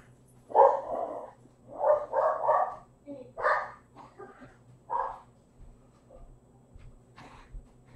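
A pet dog inside a house barks in several short, loud bursts near the start, then quieter yips trail off, with a person talking over the barking indoors.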